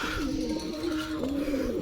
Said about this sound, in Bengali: আর এখানে ওই যে একটা পায়রা মাদিটা ডিমে তা দিচ্ছে